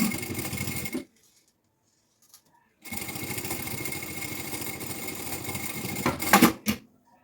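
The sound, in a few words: sewing machine sewing a seam on a backpack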